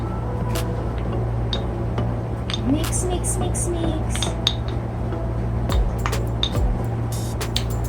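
DIY lip tint ingredients, including aloe vera gel, being mixed in a small container, giving light clinks and taps of a utensil against the container over a steady background hum, near and fairly quiet.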